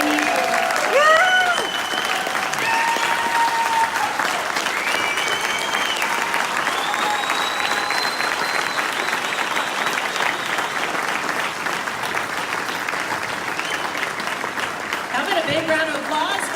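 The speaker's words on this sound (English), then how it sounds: "Big round of applause for Tommy Lahren." A large audience claps and cheers at a conservative political conference, sustained loud applause filling the room throughout, with a few whoops and a voice speaking over it near the start and end.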